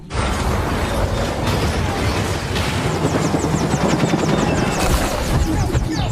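A loud helicopter crashing after snagging on a cable in a film scene roars with thudding rotor chop and grinding mechanical clatter, steady and close throughout, with scraping metallic noises layered on top.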